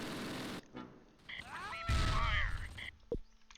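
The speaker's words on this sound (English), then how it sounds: "Everybody's shooting." Gunfire crackles during a Close Combat battle: scattered shots and bursts over game effects, with one louder burst midway and a sharp crack near the end, moderately loud.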